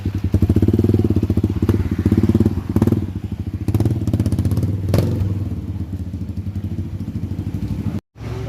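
Honda CRF 150L motorcycle engine revving up through the mid-to-high RPM range, a loud, steady, throbbing exhaust note held close by, with a few thumps and a brief cutoff near the end.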